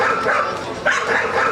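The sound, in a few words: small dog barking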